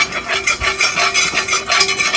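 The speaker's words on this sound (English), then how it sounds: "stir it around a little bit" Oil being stirred around a hot frying pan before making a chicken stir fry, a steady scraping and swishing with soft metallic clinks and a faint sizzle, close and continuous without talk.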